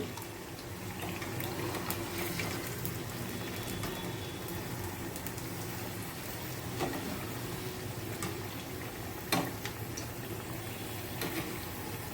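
Potato bhaji frying in hot oil, a steady dense crackle and bubbling hiss that runs unbroken throughout at low level, with a few sharper pops along the way.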